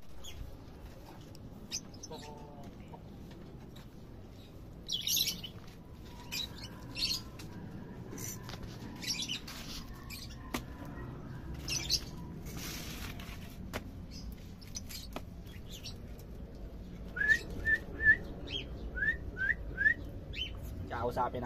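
Pet birds, including an African one, give scattered chirps and short whistled notes, faint and intermittent, with a cluster of quick calls toward the end and a person talking quietly in the background.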